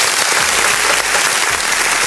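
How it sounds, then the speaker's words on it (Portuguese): Loud, dense applause from a studio audience during a talk show with a city councilwoman, a steady wash of clapping that holds for the whole moment with no voices over it. "Uma salva de palmas aí"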